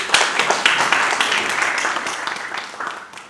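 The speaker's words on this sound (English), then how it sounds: "a big round of applause for you" An audience at a prize distribution ceremony for a youth declamation contest applauds in a dense burst of clapping that is loud at first and then slowly tapers off.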